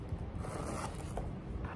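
Zipper on the zip compartment of a Louis Vuitton Ivy wallet in monogram canvas, heard as a quiet, continuous scratchy zipping run lasting just under two seconds, close up with no talking.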